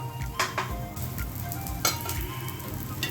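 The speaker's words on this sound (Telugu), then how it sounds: "ఇప్పుడు ఆయిల్ పోసుకుందాం" Oil hitting a hot pan for moong dal dosa (pesarattu), sizzling steadily at close range with a few brief bursts of louder crackle and faint utensil clinks, no voices.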